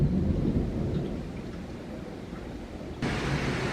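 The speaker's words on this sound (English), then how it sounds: "We're getting a pretty good thunderstorm." Steady heavy rain roars throughout with deep rumbling thunder underneath; the downpour swells noticeably louder near the end.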